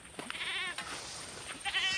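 Young goats bleating with their mother on a grassy farm, a few short, wavering calls close by, fairly faint, with quiet pauses between them.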